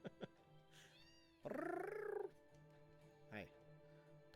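A cat meowing in Final Fantasy 7, with a short rising-falling meow followed by a longer, louder drawn-out one and a brief chirp near the end, over a quiet game background.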